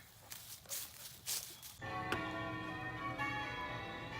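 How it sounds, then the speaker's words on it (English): A few soft knocks, then bells begin ringing and keep sustaining with a bright, lingering metallic tone. "Class bells. Well, that's odd."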